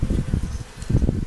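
Honey bees buzzing among opened hive frames on a warm April day, a low close hum that swells and dips in uneven pulses.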